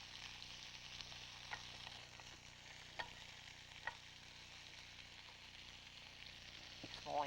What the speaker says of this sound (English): it's falling out of the frying pan, doesn't want to be there.